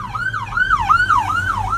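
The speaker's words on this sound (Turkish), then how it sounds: "Bu arada polis sirenleri açmış gidiyor." A police car siren wails in steady rising and falling sweeps, loud and close as it passes along a street in Chile, with a low traffic rumble underneath and no talking.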